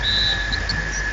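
A referee's whistle from NBA 2K13 basketball blows as a steady, shrill tone over loud arena crowd noise, lasting about a second.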